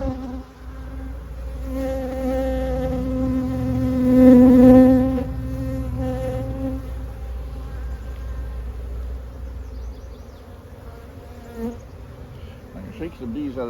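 Honeybees buzz around small nuc hives in a close, continuous drone that swells louder for a moment, then settles into a steady hum.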